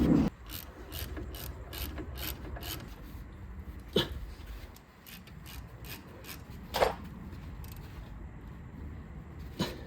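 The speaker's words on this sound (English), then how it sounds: "use a size 7 hex bit and tighten the two bolts, the top and the bottom brake caliper bolt" A ratchet driving a size 7 hex bit to tighten bicycle brake caliper bolts, rapid rhythmic clicking in bursts with a few louder knocks, close and without talk.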